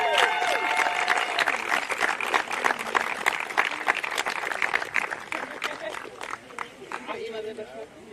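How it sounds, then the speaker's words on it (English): Audience applause for the Challenger Women's beach volleyball medalists and champions at an Australian Beach Volleyball Tour finals in Cobram, steady dense clapping throughout with a voice talking over it. "a massive round of applause for our Challenger Women's medalists and champions"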